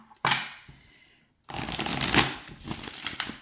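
Tarot cards are riffled close up: a sharp snap with a fading flutter, a pause, then a longer rustling shuffle of stiff cards.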